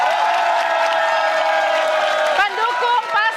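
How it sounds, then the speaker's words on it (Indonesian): A studio audience at a post-debate press event for the 2024 presidential candidates applauds and cheers, a dense continuous wash of clapping with some shouts, while a presenter's amplified voice speaks over it. "Tepuk tangan."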